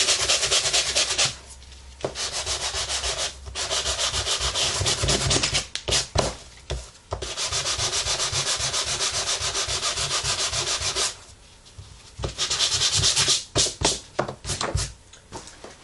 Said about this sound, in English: So I sanded it just to get a little of that color off.